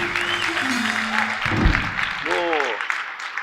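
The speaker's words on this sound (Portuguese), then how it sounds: "salva de palmas para ele" Audience clapping at a political debate-style talk, a short burst of applause beneath voices and some tonal sounds, mixed and moderately loud for a few seconds.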